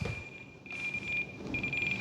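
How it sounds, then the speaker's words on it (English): An RC radio transmitter sounds a telemetry alarm while an E-flite Airbus A320neo twin 64mm EDF model is being set up, giving a steady high-pitched electronic tone in pulsing beeps, close and moderately loud. "I'm getting alarms."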